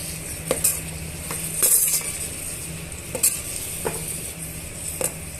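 Ground onion-tomato paste frying in masala for mutton biryani, a low continuous sizzle with a few sharp spoon clinks and scrapes against the pot, no voices.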